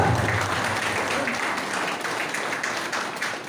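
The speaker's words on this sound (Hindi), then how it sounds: "जोरदार ताली के साथ" An audience at a seminar meeting in Berhampur claps loudly and steadily to welcome a new guest, a dense wash of applause that runs without a break for the whole stretch.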